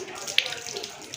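A water tap runs steadily into a basin during ablution, giving a continuous close splashing flow with a few small bright spatters and no voices.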